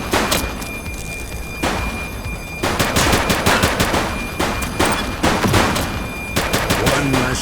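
Gunfire crackles in The Precinct, a police action game, as loud, close shots and rapid automatic bursts repeat irregularly across the whole stretch.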